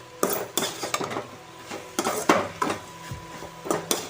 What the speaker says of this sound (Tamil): தெளித்து விட்டு நல்லா கலரி விட்டுடலாம்